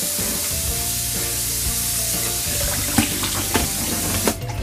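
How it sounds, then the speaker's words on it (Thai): Cut broccoli is washed in water at a sink, with a steady rush of tap water and some sloshing and splashing up close, and no talking. "แล้วก็เราจะนำไปล้างน้ำนะคะ"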